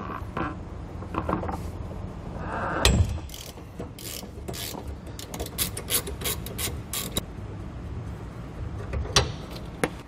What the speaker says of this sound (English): remove those nuts using an 18 millimeter socket and wrench